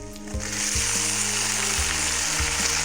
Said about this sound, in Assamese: এনেদৰে আপুনি 2 মিনিটমান সময় ধুনীয়াকৈ ভাজি ল'ব